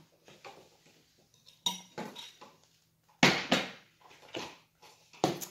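A spoon scoops celery from a container, heard as a few scattered metallic clinks and scrapes separated by quiet pauses, close by and fairly soft with no talk.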